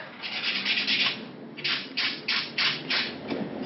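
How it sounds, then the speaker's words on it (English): Acrylic nails are buffed with a 100-180 grit block in quick back-and-forth strokes, close and rhythmic, in a continuous rub and then six or so distinct swipes. "Use a 100-180 grit block, and I tend to smooth it over with the 100 grit side"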